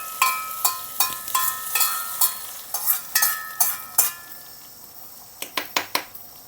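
Cashews go into a hot frying pan and are stirred, with a rapid series of close metallic scrapes and clinks of a spoon against the pan over a soft sizzle, pausing briefly before a last quick run of strokes.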